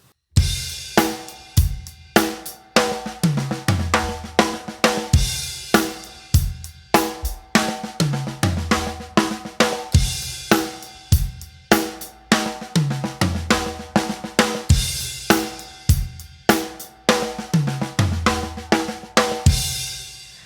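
A drum kit plays accent fills at a quick tempo, with dense rapid hits, cymbal crashes and regular heavy accents, loud and close and steady for the whole stretch, no talking.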